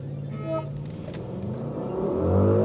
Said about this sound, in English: Let's do the drag race and let's see if we can do a 0 to 100 check on this.